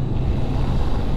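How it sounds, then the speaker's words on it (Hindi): Loud, steady rush of a meltwater stream near Khardung La pass, a dense broadband roar with no voices. "और ये पानी बह रहा है"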